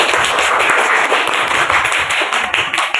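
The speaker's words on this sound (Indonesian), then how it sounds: "jadi kasih tepuk tangan untuk Riki" A class of children clapping for a student named Riki, a loud, dense burst of quick claps close by, without talk.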